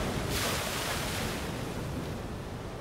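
Sea waves crash against rocks on a storm-battered shore, giving a loud, continuous roar of surf that swells early and then eases slightly, mixed with wind noise.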